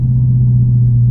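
Stock exhaust of a 2019 Dodge Charger R/T Super Track Pack idling, a loud, deep, steady rumble heard close up with no voices.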